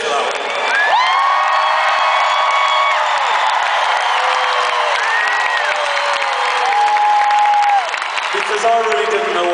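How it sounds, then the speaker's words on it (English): A large live concert crowd cheers loudly, with whoops and high whistling shouts rising over a continuous roar of applause. "Give yourselves a bit of a cheer for that one."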